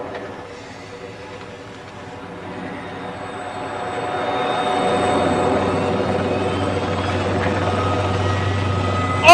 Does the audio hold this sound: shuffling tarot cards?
no